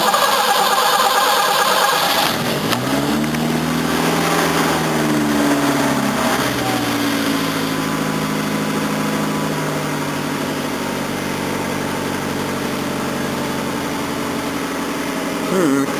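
A Datsun engine with a carburettor cranks and catches, then settles into a steady, loud idle. A noisy fuel pump buzzes underneath throughout.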